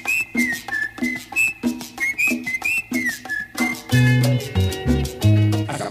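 A person whistles a repeated melodic phrase in short rhythmic bursts, loud and near, before a salsa band with horns and bass joins in at a sonido dance event in Guadalupe Tlachco, Tlaxcala.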